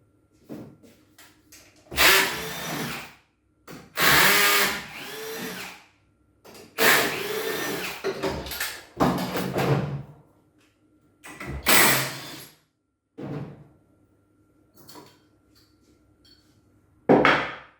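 A Piaggio 125/150 scooter transmission with a worn old pulley strains in short, loud bursts of mechanical whirring, starting and cutting out several times, close up, with quiet pauses between.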